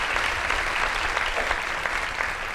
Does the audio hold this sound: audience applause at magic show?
yes